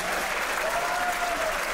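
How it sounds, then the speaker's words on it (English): A stand-up comedy audience at a crowd-work show applauds for a couple, a steady wash of clapping from many hands that runs evenly through the moment with no break. "Give him a round of applause."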